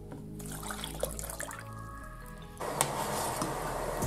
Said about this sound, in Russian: Добавляем 200 миллилитров воды.